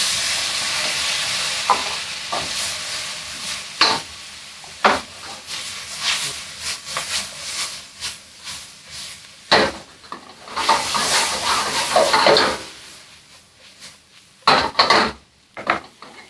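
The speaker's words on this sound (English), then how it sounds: "Go ahead and add your garlic, minced garlic." Minced garlic frying in a pan for pork fried rice, a steady broadband sizzle with repeated clattering stirs and scrapes of a utensil against the pan, close and fairly loud.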